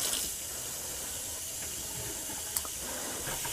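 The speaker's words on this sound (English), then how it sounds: "But once we've got to a nice flow of water like we have there" Water runs steadily through caravan taps over the sink once the water pump is switched on. It makes a continuous, moderately quiet hiss for several seconds, with a small click near the end and no voices.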